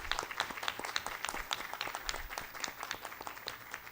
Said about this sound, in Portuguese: eu peço uma salva de palmas ao presidente que assumirá